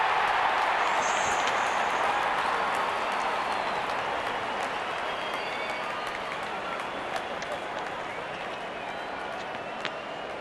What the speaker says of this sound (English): There's such a wonderful crowd in to watch their favorite players